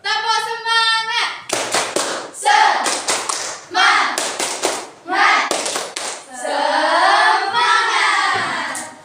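Classroom pupils perform a rhythmic spirit clap, sharp bursts of clapping in short patterned groups alternating with children's chanted voices, lively and close, ending in a sustained shouted call.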